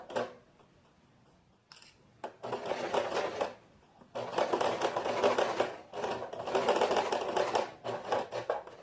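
A sewing machine stitches the crotch seam of a tailored trouser in bursts of rapid mechanical chatter. There are short pauses between runs and a brief start near the beginning, close and clear, no talking.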